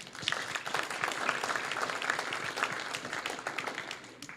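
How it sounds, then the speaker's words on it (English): Steady applause from an audience at a high school grand opening and ribbon cutting ceremony in a new school building, dense clapping sustained throughout at moderate level with no talk over it. "Let's give them a round of applause."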